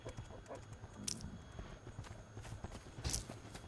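Hoofbeats of a goat running around in a video game, a steady clip-clop patter of footfalls under game background noise with a couple of brighter bursts.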